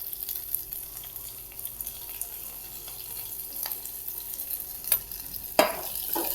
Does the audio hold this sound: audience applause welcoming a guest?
no